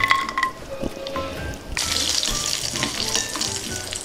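Cashews frying in hot ghee for a Telugu moong dal payasam give a steady, close sizzle that swells as the nuts hit the pan, with faint stirring clinks alongside.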